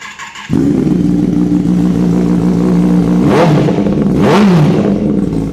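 A Kawasaki Ninja ZX6R with an original titanium exhaust and link pipe starts into a loud, steady idle close by, then is revved twice in sharp rising bursts.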